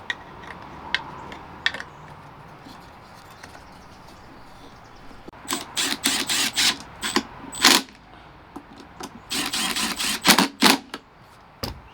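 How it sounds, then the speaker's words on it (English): Gold screws being driven by hand to fasten a Recon LED tail light part onto its heat block on a 5th-gen Ram, heard as close bursts of sharp clicking and rattling ticks in the second half after a quiet start. "And then we'll screw this back onto that heat block with the 2 gold screws."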